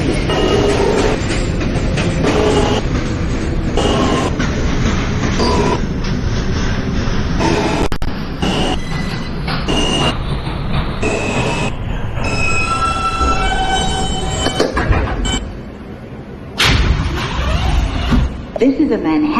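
A Manhattan-bound J local train on the New York subway rumbles and clatters along the track, with high, piercing wheel squeals rising in the middle. The noise dips briefly, then picks up again loud and close.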